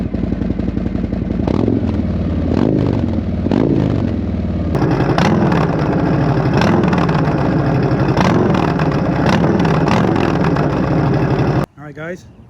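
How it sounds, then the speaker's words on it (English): A stationary car with a newly installed exhaust revs repeatedly in sharp bursts over a rumbling idle, loud and close, the exhaust roaring with each blip before it cuts off. "Here's what it sounds like sitting still, just revving the throttle."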